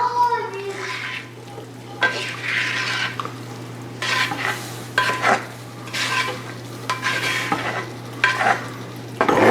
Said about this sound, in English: now we're gonna add the vegetables back over here